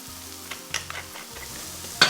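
Garlic and mushrooms cook down in a pan for beef stroganoff, a close steady sizzle broken by a few clinks and scrapes of stirring, with a sharper spatter near the end and no talk.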